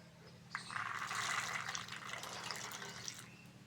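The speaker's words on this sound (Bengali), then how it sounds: "ভিজিয়ে রাখা মটরটা দিয়ে দেবো।" Soaked peas for vegetarian ghugni tipped into hot water in a kadai over a stove. A sudden splash opens a steady watery rush and trickle that carries on to the end, fairly faint, with no talking.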